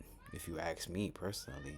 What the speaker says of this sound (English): that is my cat in the background